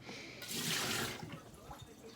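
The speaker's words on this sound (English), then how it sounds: "Takes quite a bit of pasta, so I'm going to get some water going." Tap water runs into a cooking pot for pasta in a home kitchen, a soft, steady hiss and splash that swells briefly then settles, fairly quiet and close, with no talking.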